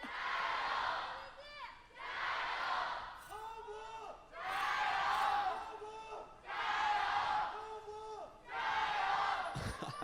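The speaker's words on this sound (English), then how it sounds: "Everyone's just shouting." An esports arena crowd at an LPL Summer Split match between Edward Gaming and TOP Esports shouting in loud, rhythmic bursts, about five chant-like surges of massed voices separated by brief dips, filling the hall.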